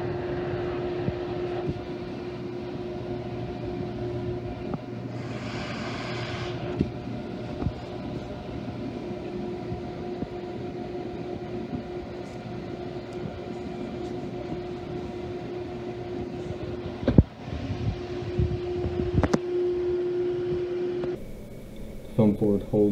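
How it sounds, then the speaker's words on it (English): A vacuum table on a pegboard holding down foam board gives a steady, even mechanical drone with a faint tonal hum that runs throughout. "The vacuum table held the foam board very firm."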